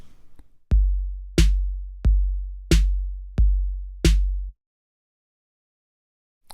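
Drum machine beat built from a basic four-on-the-floor kick with snare added: six evenly spaced, punchy hits with deep booming low ends and sharp attacks, played alone and loud, ending abruptly into silence.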